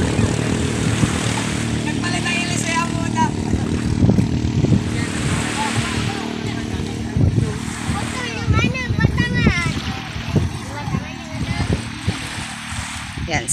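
A motor bangka's engine runs steadily and fairly close, a constant low droning hum that continues under people talking throughout.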